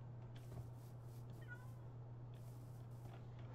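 A Minecraft cat gives soft, faint meows over a steady low background hum, short calls spaced through a few seconds.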